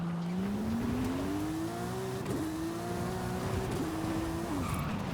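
A 900hp classic Porsche on drag tires slides sideways in Forza Horizon 5, its engine holding a loud, rising drone while tires squeal through the slide, with a few sharp shifts near the end.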